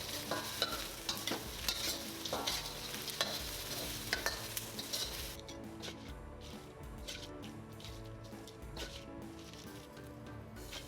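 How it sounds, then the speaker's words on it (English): Chicken pieces seasoned with salt, sugar and white pepper are stir-fried in a hot pan for a Sichuan chicken dish: continuous sizzling with busy scraping and tossing that eases into a quieter, steady fry partway through. "Stir fry until everything mixes well."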